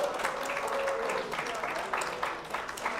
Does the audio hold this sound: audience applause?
yes